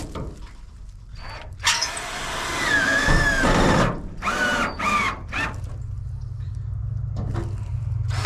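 A power drill drives screws into a grain silo chicken coop, a loud whirring burst in the middle with shorter drill runs after it and a low steady hum underneath.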